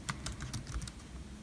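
Typing a terminal command on a 2015–2017 MacBook Air keyboard: a quick burst of soft, close key taps in an uneven rhythm over a low background hum.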